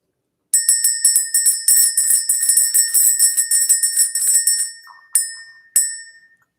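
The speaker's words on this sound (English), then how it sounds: "We're going to ring this bell." A bright bell rings in a fast run of sharp, clear strikes that stops, then sounds twice more, each ring decaying with a long shimmering tail; loud and close.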